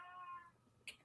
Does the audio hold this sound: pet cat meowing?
yes